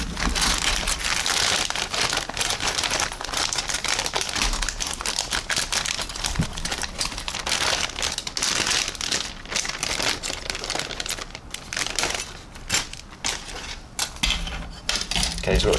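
A plastic bag of black model kit parts for an Italeri 1/9 1951 Norton Manx motorcycle crinkles loudly and continuously close up, with dense rustling and occasional rattles of the plastic pieces inside.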